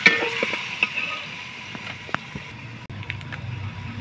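Meat for chicken haleem fries with spices in a pot, giving a steady close sizzle with a few sharp clicks and stirring knocks.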